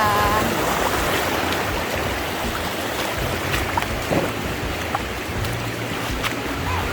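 A strong, clear river rushes steadily in a dense, continuous wash of flowing water that stays loud and close throughout, with a few faint knocks and no talking.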